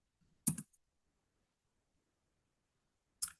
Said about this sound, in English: If I type WSL now